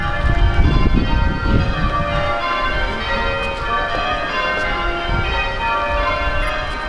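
Church bells ring out in a continuous outdoor peal, fairly loud and sustained, with overlapping tolls layered over low ambient rumble and no speech.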